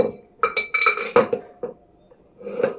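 Metal pots and utensils clank and clatter in a home kitchen as a cooking pot is set onto a gas stove while making holige, with several sharp clinks close by, a pause, then another rattle; no talking.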